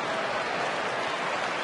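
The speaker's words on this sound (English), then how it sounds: "the fans are clapping because that's the way Jackson plays" Baseball fans in a stadium clap in a steady, dense wash of applause after a fielding play, loud and continuous with a crowd murmur underneath.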